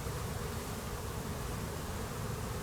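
Honey bees at a hive opened for a January inspection fill the air with a steady, dense, close buzzing that holds evenly throughout, with no voices.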